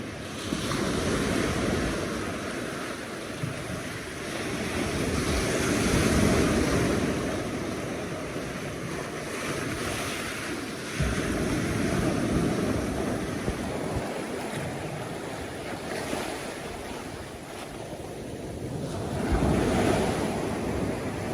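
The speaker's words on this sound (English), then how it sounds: "let's have a look at the sea, shall we? Because it's already hitting the wall." Sea waves surge against the promenade wall at Walcott on the North Norfolk coast, heavy rolling crashes swelling and fading in slow cycles under constant wind rumble.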